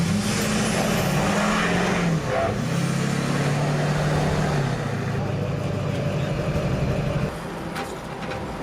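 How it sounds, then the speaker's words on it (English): Truck engine straining as it tries to tow a stuck forklift out in the cold, a loud steady motor drone with revving shifts throughout, easing back near the end. "We tried pulling it out with a truck."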